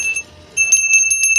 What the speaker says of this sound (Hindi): घंटियां भी बजने लग गई और जगह शंख।